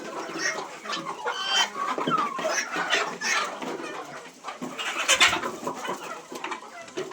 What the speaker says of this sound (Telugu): కోళ్ళు అనేది కొట్టుకొని తింటూ ఉంటాయి.